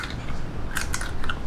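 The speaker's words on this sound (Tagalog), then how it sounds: "Talagang malutong na malutong." Crunchy bites into crispy deep-fried chicken intestine (isaw), Filipino street food: several close, crackly crunches over steady chewing, loud and near, no talking.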